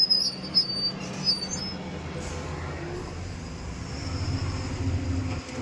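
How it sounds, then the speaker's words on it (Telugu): A loaded tipper truck pulls away in first gear, its engine a steady low rumble that swells slightly as it moves off, with no talk over it. "ఫస్ట్ గేర్ వేసాను ఫ్రెండ్స్. బండి మూవ్ అవుతుంది."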